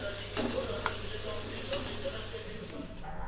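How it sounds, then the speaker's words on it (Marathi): Modaks frying in hot oil give a soft, steady sizzle with occasional sharper ticks and clinks of a utensil, fairly quiet and close, with no talk. "आता हे आणखीन मी तळायला टाकलेत त्याच्यात"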